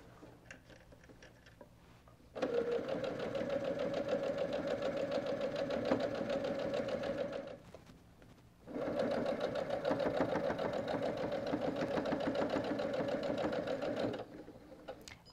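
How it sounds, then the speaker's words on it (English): A sewing machine stitching a quilted quarter-square-triangle towel runs in two steady bursts of rapid, even whirring and ticking, each several seconds long with a short pause between, close and moderately loud with no talking. "we're going to just sew right to it"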